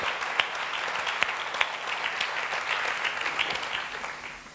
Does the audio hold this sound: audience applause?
yes